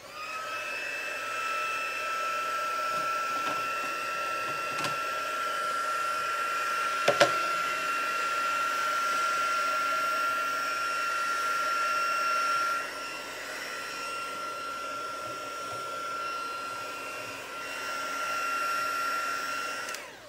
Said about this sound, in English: Just going to heat set that quickly.